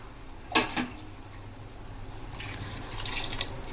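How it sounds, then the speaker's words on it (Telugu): Water poured from a glass into a pot of soaked rice while preparing chicken biryani, a brief splashing burst followed by a steadier trickling pour, close and fairly quiet with no talk. "ఇందులో నేను 6 గ్లాస్ వాటర్ వేస్తున్నాను."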